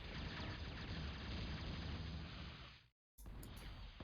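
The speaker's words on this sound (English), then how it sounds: "the explosions are pretty satisfying" Dense, continuous rumbling explosions and crackling blasts from a 1998 real-time strategy video game fill the stretch, dropping to a brief moment of silence before resuming just as loud.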